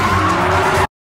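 A car drifts with a loud, sustained tire squeal that holds steady for under a second, then cuts off abruptly.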